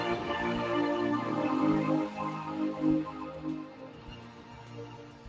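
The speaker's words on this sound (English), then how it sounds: "It's a hybrid digital analog synthesizer" A Prophet VS hybrid digital-analog synthesizer plays sustained, full chords with shifting notes, moderately loud and alone, with a slightly compressed, phone-like quality.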